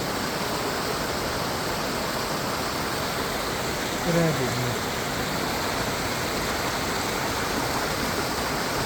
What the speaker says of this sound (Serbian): Pogledajte ono tamo u daljini. Onaj vodopad.